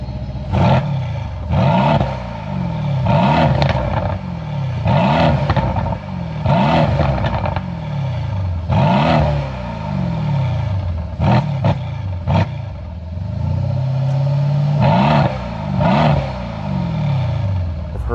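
A 2019 facelift Mercedes-AMG C63S engine revs repeatedly in short, loud blips close by, each rise followed by a crackling exhaust burble as it falls, with one longer held rev near the end.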